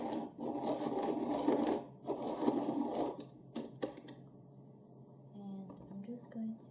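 A lavender Prismacolor colored pencil is sharpened in short bursts of close grinding and rasping, followed by quieter scratchy strokes with soft background sounds.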